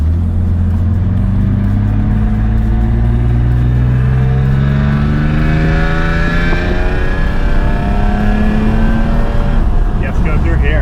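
A Mercedes car driving on the road, its engine loud and close as it pulls through a long gear with rising and falling pitch, steady and continuous throughout, with no speech heard.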